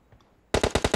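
Video game automatic gunfire, a burst of five rapid loud shots in quick even rhythm after a quiet moment.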